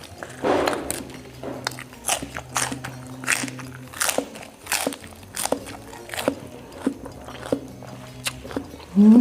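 Crunchy cos lettuce being chewed up close, a series of crisp snapping bites and wet crunches in an irregular rhythm, loud and near, with a brief vocal sound at the end.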